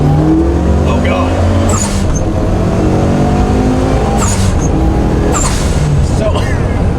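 A 550 hp E85 Mitsubishi Evo 9 pulls hard in second gear from a roll, its loud, raspy engine note climbing steadily with sharp blow-off and turbo whooshes between surges and excited voices shouting over it.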